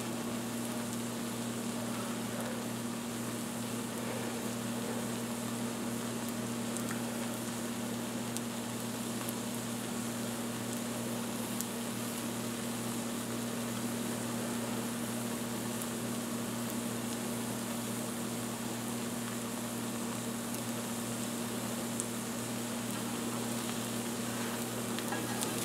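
Herb-flecked crepe batter fries in a pan, producing a continuous even sizzle with faint crackle and a steady hum, close and unbroken with no talk.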